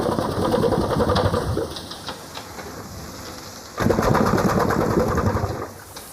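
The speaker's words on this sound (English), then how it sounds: "This remarkable contraption is an old steam engine." An old working steam engine with a vertical piston, installed to power mill machinery, runs with a steady mechanical chugging and clatter. A louder, fuller burst of motion comes partway through.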